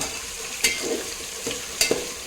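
Vegetables with green chili and tomato frying in a pan, a soft steady sizzle with a few sharp scraping stirs of a spatula, close and alone.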